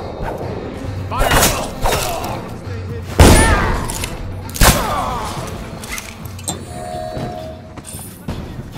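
Guards firing guns during a stealth chase in Dishonored: The Knife of Dunwall, with several sharp, loud shots spaced a second or so apart over ambient game sound, while voices shout in between.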